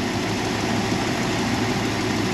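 Steady, smooth idle of a 1964 Ford Thunderbird's engine, a constant low drone with no surges, heard up close and alone.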